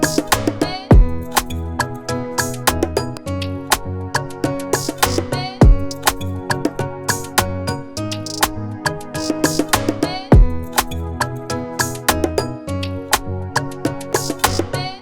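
An Afrobeat beat produced in FL Studio plays loud and steady, with punchy drum hits, a repeating groove and layered melodic parts running continuously with no talking.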